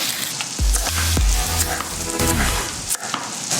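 Pieces of chicken sizzle loudly as they go into a hot pan for a Mexican Christmas dish, with crackling bursts each time a piece lands and a steady frying hiss between them.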